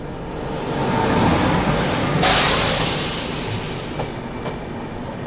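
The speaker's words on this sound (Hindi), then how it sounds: "अभी अपनी बुंदेलखंड एक्सप्रेस पहुंच रही है सुरैवन नाम से एक छोटे से रेलवे स्टेशन पे।" The Bundelkhand Express pulls into the small Suraiwan railway station, a steady rumble of rolling wagons with faint clatter and a sudden hiss of air partway through, heard close and without speech.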